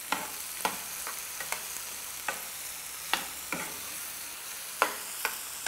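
Butterfly prawns sizzle in a pan with a steady low hiss, broken by repeated sharp crackles and pops scattered every second or so, close and moderately quiet, with no voices.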